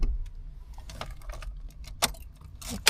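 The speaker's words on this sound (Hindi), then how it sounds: "निकालो चाबी, निकालो।" A car key pulled from the ignition during a driving lesson, keys jangling and clicking in several sharp bursts close by, fairly quiet with light rustling between.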